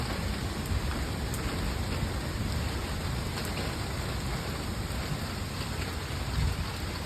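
Heavy rain pours down in a steady, dense hiss that stays close and loud from start to finish, with no voices over it.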